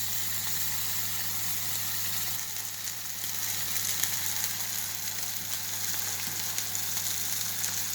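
A burger patty frying in a pan gives a steady, faint hiss of sizzling with a constant low hum beneath it, continuous throughout without speech.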